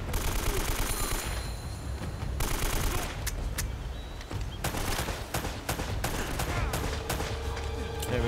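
Shotgun and AK fire from a video game crack in rapid, dense bursts, with loud repeated blasts layered over continuous chaotic combat noise.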